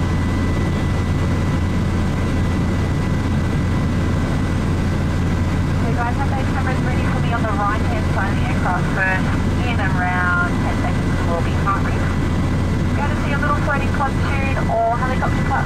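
Constant drone of a small airplane engine in flight over the Great Barrier Reef, Queensland, fills the cabin, loud and steady, with a person talking over it.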